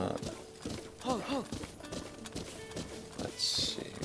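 Horse hooves pound at a gallop in Zelda: Breath of the Wild in Master Mode, a quick, steady clip-clop close up, with a brief whinny partway through over game sounds.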